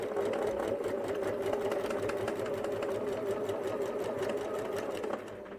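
Sewing machine stitching a seam on fabric for a Rowan Bunny rabbit toy pattern; a steady, loud, fast motor whir with rapid needle ticking, stopping just before the end.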